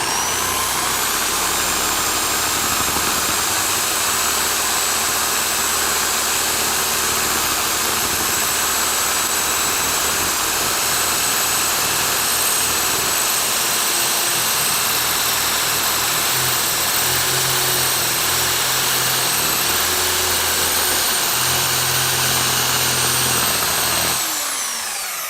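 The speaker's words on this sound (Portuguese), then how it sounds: "Então eu vou utilizar nessa mesma peça uma lixa de 400." Electric orbital sander running continuously on a workpiece with 400-grit sandpaper, a steady high-pitched whine and loud abrasive hiss that stays constant for about 24 seconds before cutting off.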